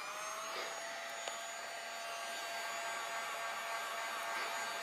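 A heat gun blows a steady, even hiss while shrinking heat-shrink tubing over motorcycle brake switch wiring on a Harley-Davidson XG750 Street, one brief click partway through, with no talk.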